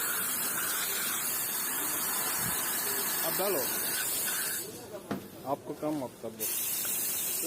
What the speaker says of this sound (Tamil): ஸ்டீம் ஆன் பண்ணி ஃபஸ்ட்டு க்ளீன் பண்ணுறாங்க மண் பாத்திரம்